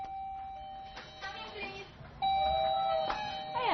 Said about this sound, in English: But nowadays, they have doorbells.